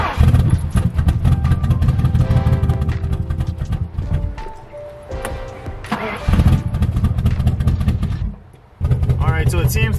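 After a spark plug install, a Ford 4.6L engine idles with a loud, rough, continuous rumble close by. The sound dips briefly in volume twice.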